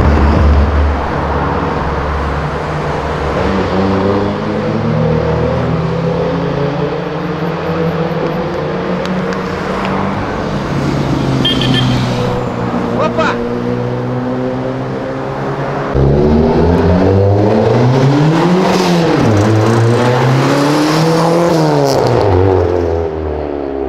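Three Lamborghinis accelerate together, loud engines rising and falling in pitch through repeated revs and gear changes, a layered roar that swells near the end.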